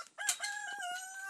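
A rooster crows loudly and close by beside a portable quick-deploy chicken coop, one sustained drawn-out call standing alone, with a brief clucking note at the start.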